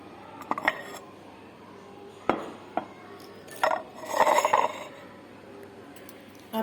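Ceramic cups and plates clinking as they are handled: a few scattered sharp clinks, then a brief cluster of ringing contacts, close and fairly clear over a quiet room.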